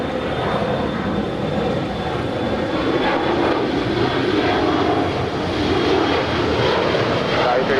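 An Alaska SkyWest regional jet bound for San Jose takes off from runway 25 right at Los Angeles International Airport, its engines producing a loud, steady broadband roar that fills the whole stretch.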